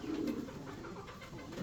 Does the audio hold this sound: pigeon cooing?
yes